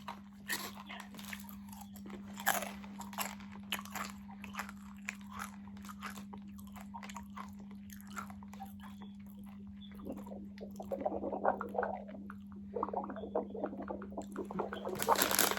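Someone unwraps and eats khanom khiang and khanom thian, Thai steamed sweets with a savory filling. There is close rustling of the wrapping and soft crunching and chewing over a steady low hum, and it grows busier toward the end.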